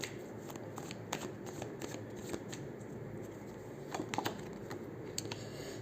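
Tarot cards being shuffled and handled, a steady papery riffling with light, crisp snaps and flicks scattered throughout, close up and fairly quiet, with no talking.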